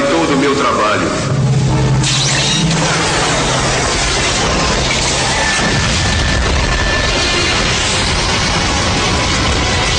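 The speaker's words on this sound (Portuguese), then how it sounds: "joga um maçarico, o que resulta em uma explosão que torra o Vilgax" In the Ben 10 cartoon, a blowtorch ignites methane gas and sets off a loud explosion: a sudden, heavy boom with rumbling debris that carries on under voices.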